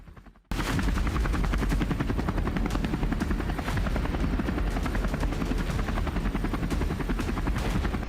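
A helicopter at Kedarnath in the Himalayas thunders in abruptly after a brief quiet start, its rapid rotor chop loud, close and continuous with a rhythmic pulsing beat.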